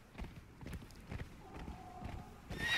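A horse gallops in the game Conan Exiles, its hooves beating in a quick, even rhythm of muffled thuds at moderate loudness before slowing toward a stop.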